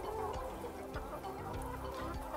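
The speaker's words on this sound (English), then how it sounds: "So the birds drink from this." Laying hens in a poultry house cluck repeatedly in short, overlapping calls, close and steady throughout.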